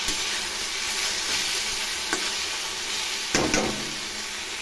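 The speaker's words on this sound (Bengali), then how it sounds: "এই শাকটা ভাজা হয়ে গেলে নামিয়ে নেব" Leafy greens fry in a pan with a steady broadband sizzle and hiss, broken by a few brief stirring scrapes near the end, with no talk.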